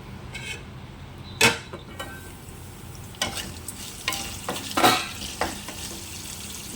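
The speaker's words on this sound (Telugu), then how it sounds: "ఉల్లిపాయలు ఎగుతున్నప్పుడు కొంచెం ఎగుతున్నాయి కదా" Onions fry in a pan with turmeric for a beetroot dish, giving a soft sizzle broken by scraping stirs and a few sharp clinks of a utensil against the pan.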